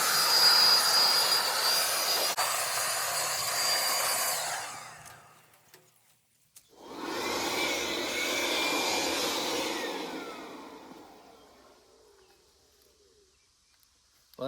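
A handheld blower roars while a backhoe is cleaned. It runs in two long, loud, steady bursts separated by a short quiet gap, and trails off near the end.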